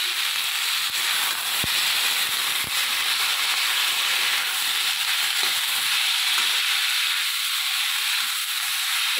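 Boiled fenugreek leaves and potato sizzling steadily in a hot pan with turmeric, a continuous loud frying hiss with a couple of sharp pops, no talking.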